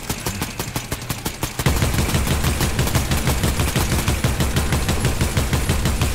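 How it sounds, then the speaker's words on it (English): Rapid video game gunfire in a gold-weapons shooter match: a string of sharp single shots leads into a dense, continuous burst of automatic fire, loud and close, with no talking. "Who's shooting?"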